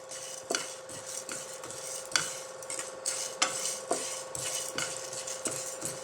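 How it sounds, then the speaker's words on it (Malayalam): Cumin, coriander and chillies dry roasting in a pan over a high flame for a drumstick leaf rasam, with repeated close scraping and clinking stirs over a faint steady hum and light crackle. "നമുക്ക് ആദ്യം ഇതെല്ലാം കൂടി ഒന്ന് വറുത്തെടുക്കാം ഹൈ ഫ്ലെയിമിലിട്ടാണ് ഞാനിപ്പം വറുത്തെടുക്കുന്നത്"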